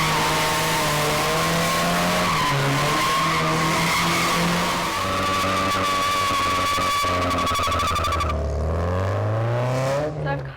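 A Nissan 240 drifting at a custom car show in Titusville, Florida, its engine howling through long rising and falling revs as the tires squeal and skid continuously for about ten seconds, loud and close with crowd noise underneath.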